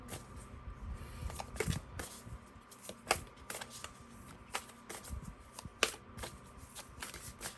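Oracle cards are shuffled by hand in a quiet room, producing soft repeated riffling and flicking snaps with a faint fan hum behind.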